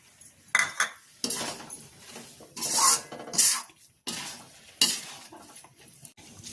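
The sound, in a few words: stirring carrot halwa with cardamom in a pan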